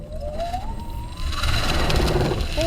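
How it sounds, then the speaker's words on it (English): Classic electric Mini spinning its wheels: a rising electric motor whine climbs in pitch, then a rougher broadband burst of tyre and road noise takes over, loud and close. "Oh, bit of wheel spin."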